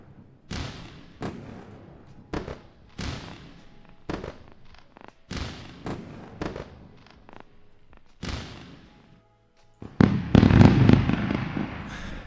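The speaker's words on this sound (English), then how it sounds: "We're gonna give you a round of fireworks." A fireworks sound effect: a string of sharp, separate bangs, each with a crackling tail, spaced irregularly at first, then dense, loud bursts crowding together near the end.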